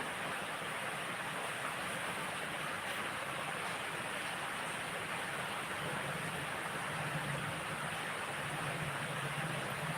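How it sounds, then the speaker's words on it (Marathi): Constant soft rush of falling rain, a faint, even wash of water noise that holds steady throughout without voices. "इकडे पण पाऊस चालू आहे कोकणात"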